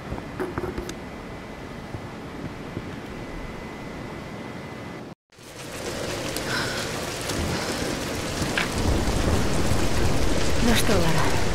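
Heavy rain in a thunderstorm from the Tomb Raider series, a steady dense roar that breaks off for an instant and then returns louder, with low rumbling underneath.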